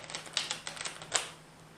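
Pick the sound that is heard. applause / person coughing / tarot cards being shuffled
tarot cards being shuffled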